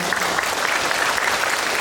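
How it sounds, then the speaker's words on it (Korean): An audience at a live film preview event applauds, a continuous dense wash of many hands clapping with a faint crowd murmur, loud and close throughout. "박수 부탁드립니다"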